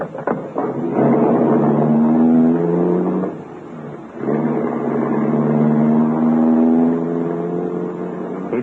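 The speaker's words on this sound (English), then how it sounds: "He turned the car away from the main center of the city, and we drove for a while in complete silence." A limousine's engine hums steadily as it pulls away and drives on, its pitch rising and falling through gear changes with a brief dip midway, loud and close with no voices over it.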